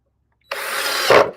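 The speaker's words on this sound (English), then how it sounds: "Very easy with the drill here." A power drill drives a screw into a wooden raised garden box, one short burst that whirs up loudly and then bogs down as the screw seats, with no talking.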